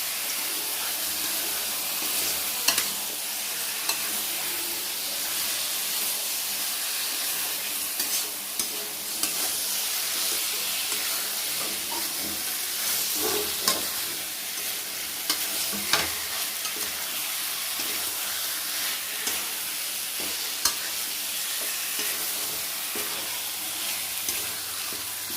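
Chicken being sautéed in a pan for a chicken curry, with a steady close sizzle and hiss and frequent clinks and scrapes of stirring throughout, no voices.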